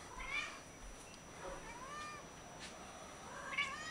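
Several cats meow in short, high calls, scattered across the moment and mostly faint against a quiet room, with one louder cry near the end.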